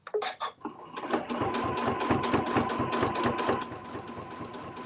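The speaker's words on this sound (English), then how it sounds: "When the machine has finished to do his lock stitch" A sewing machine runs a lock stitch on fabric, a close, fast, steady mechanical chatter of regular stitch beats lasting several seconds after a few short starting taps.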